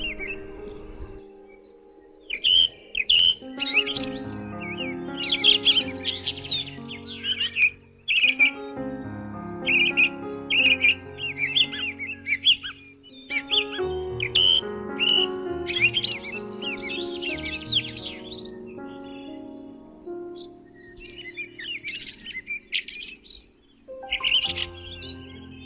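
Several birds, such as sunbirds, bulbuls, parrots and crows, chirp and call in busy, overlapping bursts over a steady background, with repeated short trills and sharp tweets close by.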